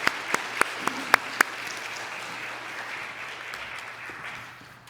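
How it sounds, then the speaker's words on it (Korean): A church congregation at a Sunday service claps, first with about six loud, evenly spaced claps from one pair of hands nearby, then a softer, sustained patter of many hands that fades toward the end. "이제 참았던 박수를 하겠습니다"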